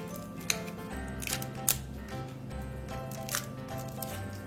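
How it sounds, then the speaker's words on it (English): Plastic wrap is peeled from a cucumber, giving close, crisp crinkles and sharp rustling snaps in scattered bursts over a low background hum, with no talk. "we're going to have to unwrap our cucumber"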